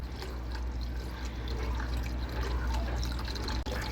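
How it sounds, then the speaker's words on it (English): Chicken broth poured from a container into a roux in a pot for chicken and sausage sauce piquant, a steady close liquid pour with light splashing over a low stove hum, no talk. "pour the rest of the chicken broth."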